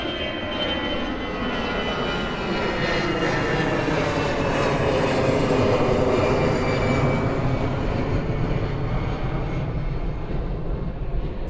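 Qatar Airways Airbus A350-1000 jet arriving at Miami airport, its engines producing a steady, loud roar that stays close and even throughout, with no voices.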